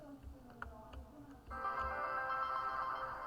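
A phone rings midway through, a sudden loud electronic ringtone that starts after some soft tapping and clicks and carries on steadily to the end.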